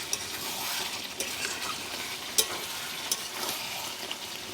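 Chicken kosha with new potatoes frying and being stirred in a pan, a steady close sizzle with occasional scrapes and clinks of the spoon against the pot.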